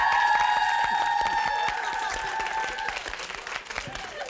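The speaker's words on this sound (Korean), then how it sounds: "수고하신 정찬호 씨에게 박수 한번 주세요." A studio audience claps for a performer on a live Korean comedy variety stage show, a dense continuous patter of many hands at moderate loudness, with sustained tonal hum or music running underneath for the first few seconds, then fading slightly.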